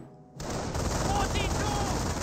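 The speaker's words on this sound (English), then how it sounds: "the MG42 will, of course, suppress the rifleman squad" MG42 machine gun in Company of Heroes opens up after a brief quiet moment, a dense, loud burst of rapid automatic fire that keeps rattling continuously.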